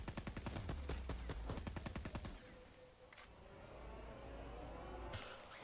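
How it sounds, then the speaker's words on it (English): A burst-fire weapon in Black Ops 4 fires a quick rapid string of close shots, then the shooting stops and low ambient game noise remains with a faint click later. "So it is a burst fire weapon."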